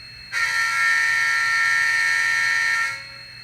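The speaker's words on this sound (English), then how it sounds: "Horn." An Atlas N scale GP40-2 model locomotive's DCC sound decoder plays its horn: one loud, steady blast held about two and a half seconds, then cut off, with nothing else heard.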